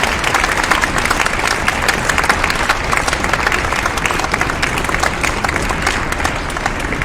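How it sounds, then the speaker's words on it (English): Audience applauding at a March 2023 Elliot Sinfonia orchestral concert: dense, steady clapping from a large crowd that stays loud and even from start to finish, with no break. "how about a round of applause for the whole building and all we do"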